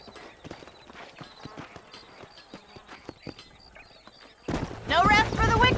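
Horse hooves clip-clop steadily in the Red Dead Redemption game on PC, clattering near through a stretch of open-range ambience before loud voices take over at the end.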